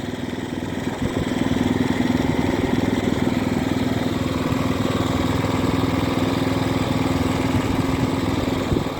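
A mechanical log splitter's engine runs steadily nearby at constant revs, a loud continuous mid-pitched drone with a faint belt-slip rasp and no talk.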